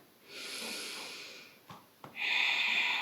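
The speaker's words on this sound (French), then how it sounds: "Vous pouvez activer la respiration Ujjayi" Slow Ujjayi yoga breathing during a downward-facing dog pose, a soft hissing, throat-constricted inhale and exhale heard close and quiet, with a couple of brief nasal catches between breaths and no talking.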